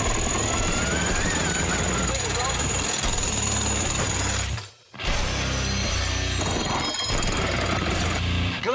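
A monster hammer machine deep underground smashes through reinforced glass: loud, continuous pounding and grinding that cuts out briefly, then resumes, with a voice talking over it.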